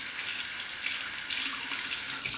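Running tap water splashes steadily into a bathroom sink as a Razorine FLATBOY razor is rinsed of stubble, a continuous close hiss with no talk.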